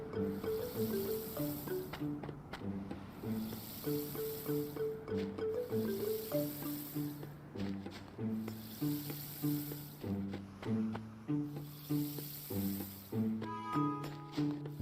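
Plants are watered in the video game Animal Crossing: New Leaf. Soft, hissing sprinkles repeat at a regular pace over the game's cheerful background music.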